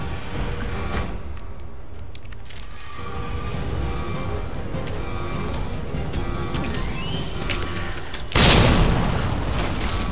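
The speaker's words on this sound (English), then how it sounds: "I threw a grenade." Resident Evil 2 grenade explosion: a single sharp, loud blast near the end that decays quickly, over a constant backdrop of dense in-game ambience.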